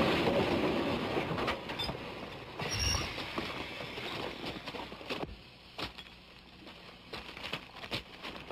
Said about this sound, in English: Stop the train!